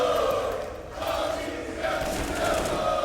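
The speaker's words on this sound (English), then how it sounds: "And it's got the crowd riled up nice and early on." A large esports stadium crowd at an ESL Challenger Melbourne 2022 Counter-Strike match roars and cheers in a sustained, swelling wash of voices with no clear commentary on top.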